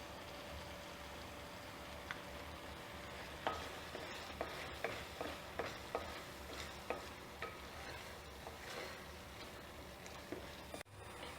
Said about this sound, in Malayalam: ഇതിലേക്ക് 2 ടേബിൾ സ്പൂൺ ഹണി ഒഴിച്ചു കൊടുക്കാം. എന്നിട്ട് ഇതിൻ്റെ കൂടെ ഇത് നന്നായിട്ട് മിക്സ് ചെയ്യാം